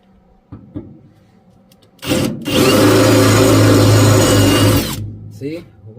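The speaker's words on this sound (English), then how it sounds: "All right, now I have my 1/4-inch drill bit right here." A power drill with a 1/4-inch bit boring through sheet metal on a first-generation F-body car, a loud steady whine for about three seconds after brief taps, spinning down at the end.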